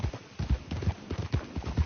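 A horse gallops in Red Dead Redemption 2, its hooves drumming in a quick, steady clip-clop rhythm that stays loud and close throughout.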